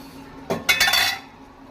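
A metal lid comes off a cooking pot of chicken thokku with a quick sequence of clinks and clatters against the rim, short and close, followed by a soft hiss.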